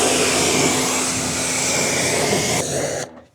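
A car tire being rinsed of cleaner during a full detail, a loud steady hiss of spraying water that cuts off abruptly at the end, close up, with no talking.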